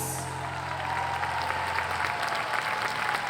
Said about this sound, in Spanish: Aplauso para Carmen.